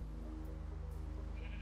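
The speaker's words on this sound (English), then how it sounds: "What's wrong with the sheep?" A sheep bleats in the Minecraft video game, a steady buzzing, wavering cry that holds for over a second, loud and close over a low rumbling background, with no talking.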